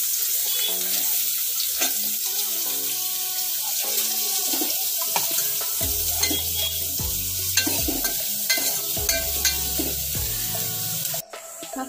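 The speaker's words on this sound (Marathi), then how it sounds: "लसूण लाल झाली आहे, आता कांदा टाकूया" Onion added to hot oil with browned garlic for pav bhaji, sizzling steadily in the pan with stirring clatter throughout, close and fairly loud.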